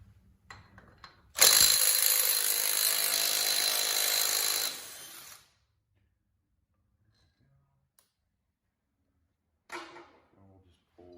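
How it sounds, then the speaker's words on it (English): Impact wrench loosening a 5/8 bolt on a 1986 John Deere 216 lawn tractor: one loud, steady burst of several seconds that cuts off, then a short faint rattle later, with no talking. "the easiest way to get that bolt out of there is you're going to want it impact."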